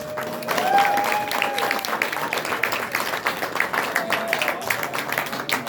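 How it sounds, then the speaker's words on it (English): Wedding guests at a reception break into sustained, dense applause for the best man, many hands clapping close by with a few whoops and whistles rising over the crowd before the clapping thins slightly toward the end. "let's give a big round of applause for the best man"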